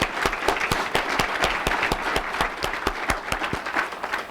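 An audience at a business matchmaking press conference claps in a dense, sustained round of applause, sharp hand claps popping close over a continuous crowd patter throughout.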